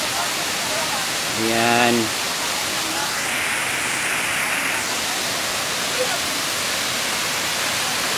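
Pang2 Falls in Barangay Panlayahan pours in a constant, loud broadband rush that fills the whole scene, while a voice briefly speaks over the steady roar of the water.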